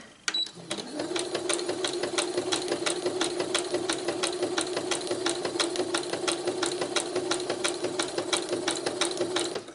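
A sewing machine stitches wire into a textile piece, starting after a brief click and running as a steady, fast mechanical chatter at an even rhythm for nearly ten seconds, close and clear.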